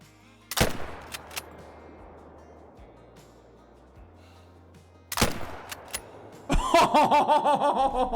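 Hunting rifle shots in the Call of the Wild hunting game: a sharp loud crack, quiet stretch, then a second crack followed by a ragged burst of rapid reports near the end.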